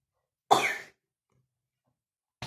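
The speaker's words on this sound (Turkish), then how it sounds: "Öksürdüm." A single short, sharp cough sounds up close, followed by silence and then the start of another brief burst at the very end.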